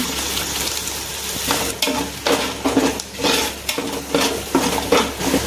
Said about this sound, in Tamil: அரைச்சி வச்சிருக்கிற தக்காளி பழத்தை போட்டுக்கலாங்க.